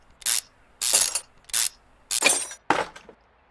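A brake caliper being removed from a car in the Car Mechanic Simulator game, heard as five short, sharp mechanical clicks and clanks, evenly spaced and close.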